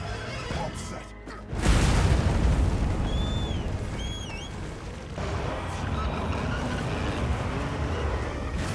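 A set bomb goes off in Monster Hunter Wilds with a loud, close boom that rolls into a long rumbling wash, and high squealing cries rise briefly over it.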